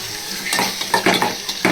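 Tomatoes and onions sauté in a pan for milagai killi sambar, giving a steady sizzle with a few scraping stirs near the end. No one speaks.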